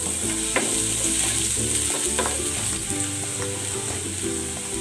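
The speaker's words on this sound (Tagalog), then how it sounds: "Igigisa ko na tong bawang." Garlic sautés in hot cooking oil with a dense, steady sizzle and crackle and occasional spatula clicks, heard up close.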